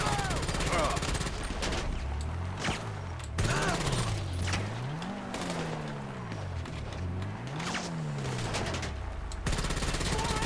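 Gunfire bursts in GTA 5 Online during a Clucken Bell raid, rapid repeated shots over a steady engine drone from a vehicle, with a person talking throughout.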